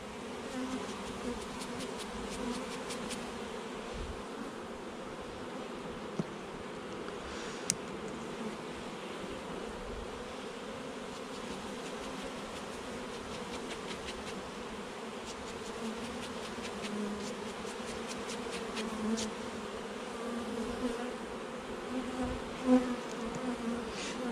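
Honeybees in an artificial swarm make a dense, continuous buzz that holds steady and close for the whole stretch, broken only by a few faint clicks.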